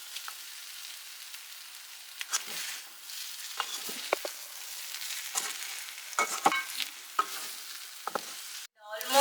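Mutton coconut fry stirred in a pan with a spoon, producing a steady sizzle broken by repeated scraping strokes at close range, with no talking.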